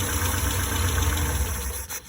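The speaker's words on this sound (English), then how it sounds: "The engine speed immediately decreases" A souped-up Morris Minor's engine idles low and steady during SU carburetor adjustment, its rumble close and even before sagging and faltering near the end as the revs drop toward a stall.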